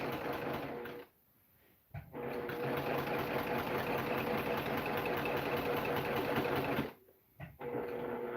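Domestic sewing machine stitching during free motion quilting with cotton quilting thread, a fast steady mechanical whir running in long stretches, broken by two brief pauses.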